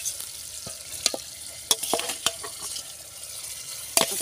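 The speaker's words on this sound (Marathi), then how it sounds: "आता त्यामध्ये टाकून घेतली आहे मसाल्यामध्ये मच्छी." Fried fish is stirred into masala in a pan, with a faint sizzle underneath sharp, irregular scrapes and clinks of a utensil against the pan, close and quiet with no talk.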